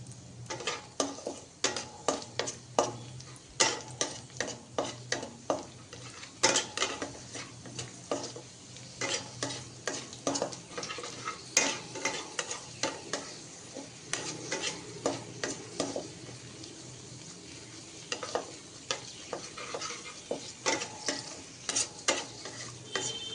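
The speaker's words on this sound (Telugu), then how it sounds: "జీడిపప్పు, కిస్మిస్ బాగా కలర్ వచ్చేలా వేయించుకోవాలి." Cashews and raisins fry in a pan with a soft background sizzle under a long run of rhythmic spatula scrapes and taps, close and steady, with no talking.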